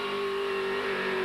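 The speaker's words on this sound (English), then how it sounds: "Dave Harris now with his MP58 Hillclimb. The big Cosworth engine" MP58 hillclimb race car with a big Cosworth engine accelerating at a 1989 hillclimb, a steady loud high engine note held for a brief moment.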